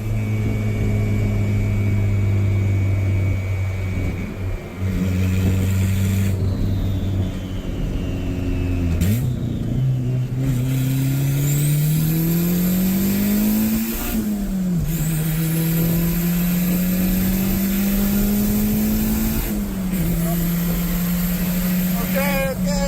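A rebuilt turbocharged Honda Civic engine accelerates hard through the gears, its rising engine note climbing and dropping with each shift while occupants talk excitedly over the loud cabin noise.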